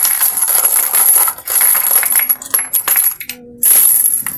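Coins pour out of a savings bank in a dense, bright jingling cascade, clattering and chinking against one another almost continuously, with short pauses and a final rush of tumbling coins.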